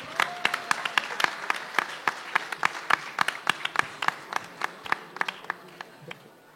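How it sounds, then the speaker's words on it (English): Small audience at an award announcement applauding, fairly sparse clapping with distinct individual claps at a lively uneven rhythm, tapering slightly toward the end. "A huge round of applause."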